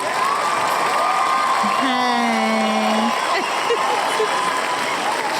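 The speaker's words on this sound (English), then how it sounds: "I'm supposed to put on the cheering." A crowd cheering sound effect plays, a steady wash of cheers, whoops and applause lasting several seconds at full volume, with a voice or two rising briefly within it.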